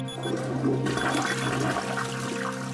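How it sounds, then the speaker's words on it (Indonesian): A toilet flushes with a rushing surge of water, steady and close, over a faint low hum. "Diselingi dengan suara flash."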